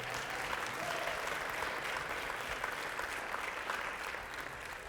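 A congregation at a church graduation service breaks into sustained applause, many hands clapping steadily throughout, heard from within the room at a moderate level.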